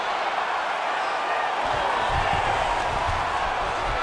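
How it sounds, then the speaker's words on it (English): A crowd roars and cheers in EA Sports UFC 5 as fighters get back to their feet, a sustained loud arena swell with a low rumble building partway through. "huge pop from the crowd as the fighters get back up to their feet"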